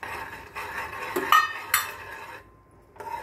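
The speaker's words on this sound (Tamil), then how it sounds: "வேர்க்கடலையும் சேர்ப்போம்" Peanuts tumble into an aval burfi mixture of flattened rice and jaggery, and a spoon stirs them through the pan. Close scraping and a few light metallic clinks rise and fall, with no one speaking.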